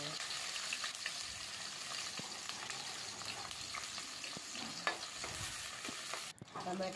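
Sliced onions fry in hot oil with a dense, even hiss and crackle. It stays close and constant, with a few scraping stirs and a brief dip near the end.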